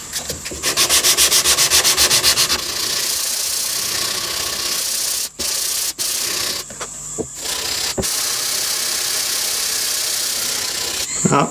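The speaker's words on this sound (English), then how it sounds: "I'll do the rest with sanding block." Rapid rhythmic scratchy strokes of a sanding block on wood start the clip, then a steady abrasive rubbing continues with a few brief pauses, close and fairly loud.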